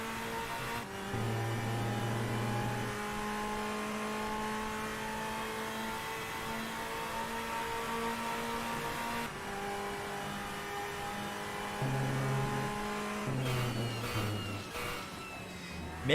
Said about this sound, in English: get that screamer of an engine.